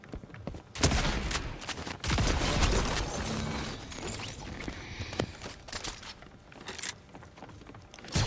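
Dense, loud gunfire and weapon sounds from a Star Wars season of the game Fortnite, with bursts of shots and mechanical clatter running continuously across several seconds.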